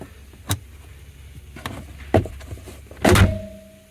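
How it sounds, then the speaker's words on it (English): Glove box door of a 2015 Chevy Colorado being clamped back on, a few close plastic clicks and thunks spaced over several seconds, ending in a louder double snap, with no talk. "clamp our door back on."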